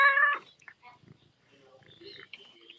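A black cat lets out a short, clear meow close by at the start, followed by quiet murmuring and faint rustling.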